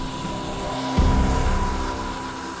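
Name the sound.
Lockheed Martin P-3 Orion propeller aircraft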